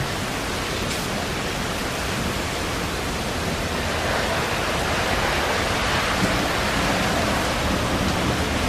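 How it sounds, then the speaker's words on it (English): Heavy monsoon storm rain drums continuously in a thick, even wash of noise, loud and unbroken, with no one speaking. "You can hear the rain."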